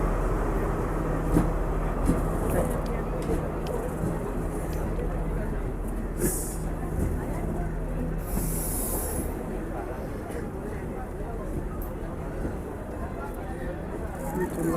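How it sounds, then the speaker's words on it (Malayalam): A train arrives at a station in Sri Lanka, a steady loud rumble of wheels and carriages with faint squealing, heard close on the platform amid background chatter. "ഓക്കെ ഇനിയിപ്പോൾ ട്രെയിൻ വരട്ടെ"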